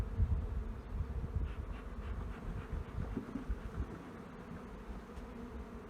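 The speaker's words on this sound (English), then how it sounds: "Shake the bees off." A dense, steady buzz of honey bees being shaken off a hive frame at a bee farm, close and continuous with a low droning hum throughout.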